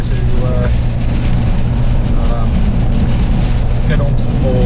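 Strong wind buffeting a 2019 Suzuki Jimny on the move, a constant loud roar of wind and road noise with a person talking over it.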